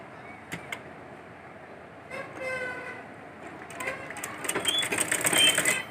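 A sewing machine stitching the shoulder seam of a baby frock, starting with a few clicks and then running in a fast, rattling whir that builds louder toward the end.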